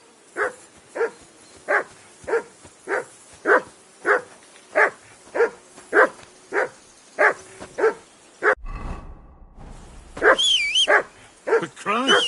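Repeated dog barks in a steady rhythm, about fifteen sharp evenly spaced woofs, then a brief burst of noise and someone shouting, with more barks mixed under his voice, in the medieval game Kingdom Come: Deliverance II at a riverbank camp.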